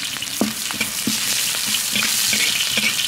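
Scallion, ginger, dried chili and star anise frying in a little oil in a wok: loud, steady sizzling and crackling, with the rhythmic scrape of a spatula stirring several times.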